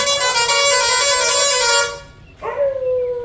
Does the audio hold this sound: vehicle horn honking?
yes